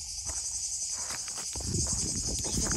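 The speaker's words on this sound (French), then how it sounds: "Ça grouille de sauterelles par contre" Grasshoppers swarming on a hot afternoon hiking trail give a continuous high, buzzing insect chirr, steady and moderately loud, with some scattered rustling and ticking underneath and no voices.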